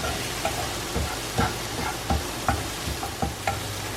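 Spices frying in plain vegetable oil for a Manipal street-food bun masala, stirred with a utensil: a steady low sizzle runs throughout, broken by about eight irregular scraping clacks, close and moderately loud, with no talking.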